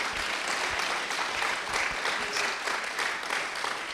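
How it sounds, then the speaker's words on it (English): Dense, steady applause from a theatre audience at an evening variety show, thanking the car-park volunteers and ushers; continuous and fairly close, with no break through the whole stretch. "So a round of applause for them, please."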